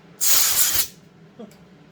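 Aerosol brake cleaner sprays onto parts of a McCulloch PM 850 chainsaw in one loud, close hissing burst of about half a second, followed by a faint brief knock.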